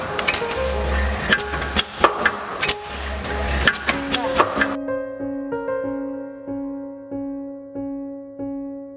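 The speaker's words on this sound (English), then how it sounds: "With rotary sealing and cutting structure, the final tea bag will be cut one by one and comes out from the output conveyor." A tea bag packing machine with a rotary sealing and cutting unit runs with rhythmic mechanical knocks and chops over a steady hum, the clatter dropping after a few seconds to a softer repeating whir with faint tonal beeps.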